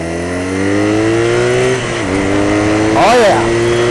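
BMW R nineT Racer twin-cylinder motorcycle engine revving up and down while riding on a hot day, a steady rising drone followed by a quick blip of throttle, loud and close under wind.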